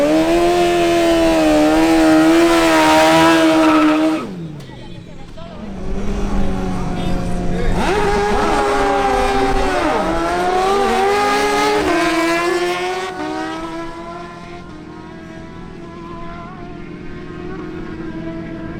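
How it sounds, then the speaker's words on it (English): Honda CBR 1000RR sport motorcycle at a quarter-mile drag race in Barranquilla, its engine screaming loud and close, revving high, dropping briefly on a gear change, then climbing again before fading as it pulls away. "the best races of the fastest motorcycles of 2022 in the Barranquilla quarter-mile drags"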